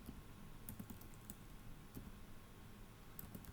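Light clicking keystrokes as a terminal command is typed on a computer keyboard, a short irregular run of soft taps over a low background hum with no talking.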